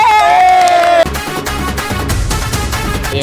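A crowd at a public gathering cheering and shouting, with loud dense clapping and overlapping voices. A sustained tone is heard in the first second, then the din continues loud and steady to the end.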